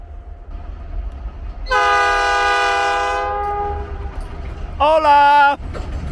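A passenger train on the railway to Machu Picchu sounds a loud, close horn blast lasting over a second, then a second shorter blast a few seconds later, over faint background rumble.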